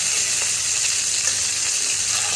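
Fish heads fry in hot oil with a dense, steady, close sizzle and crackle that continues unbroken.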